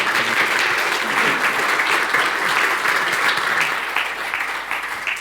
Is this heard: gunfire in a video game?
no